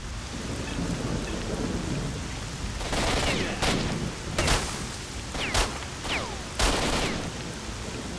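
Gunfire in the video game Stalker: Shadow of Chernobyl, a string of loud bursts and sharp shots fired in quick clusters over a constant stormy background of rain and rumbling thunder, with no talk.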